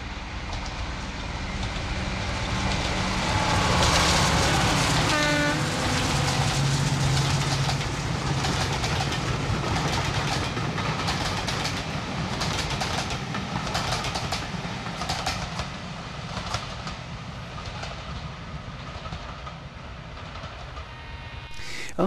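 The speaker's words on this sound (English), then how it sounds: "The pair being shortly followed by the first service train to Rottenstall," Steam locomotive Gordon Highlander hauls a service train to Rawtenstall on the East Lancashire Railway, a loud, steady rumble with wheel clatter and chuffing that passes close and slowly fades, a whistle-like tone rising briefly near the start.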